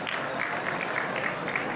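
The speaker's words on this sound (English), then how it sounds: "you're cheering" An audience at a Halloween Horror Nights convention panel cheers and applauds, a steady wash of clapping and crowd noise throughout at moderate distance.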